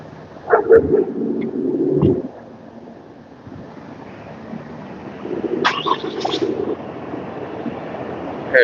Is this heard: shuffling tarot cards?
no